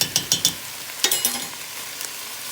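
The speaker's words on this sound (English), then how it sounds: "so I'm just going to brown this up and then add in the sofrito" Meat browning in a pan for zero-point chilli, a spoon stirring with quick scraping strokes over a steady close sizzle, no talk.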